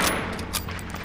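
A short burst of rapid gunfire rattles in the World War II shooter Medal of Honor: Spearhead, loud and dense for about a second.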